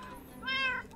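In the Minecraft video game, a cat gives one short, clear meow, moderately close and over faint background, with no one speaking.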